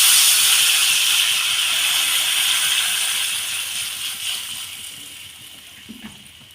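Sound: spice paste boiling after water is added, mango chutney

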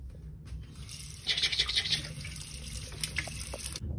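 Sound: water running from tap while washing face

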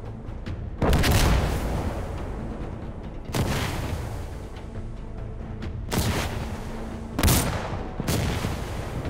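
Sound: M16A4 rifle gunshots in video game Insurgency: Sandstorm

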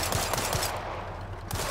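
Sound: gunfire in a video game

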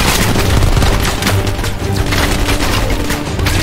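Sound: grenade explosion and gunfire in Call of Duty: Cold War video game

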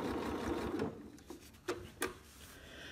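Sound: Janome quilt binder sewing machine stitching binding

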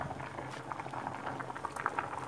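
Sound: rice boiling in a pot on high heat

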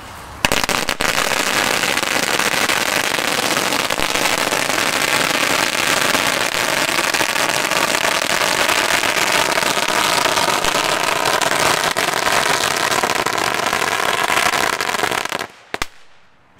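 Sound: fireworks and firecrackers being set off

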